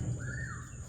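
Pet birds chirping nearby, a single faint rising-then-falling call over a low background hum, with no talk.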